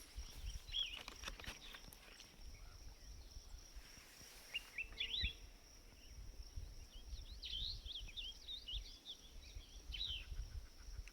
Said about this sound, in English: There are lots of birds in here. It's really cool. You can hear them all.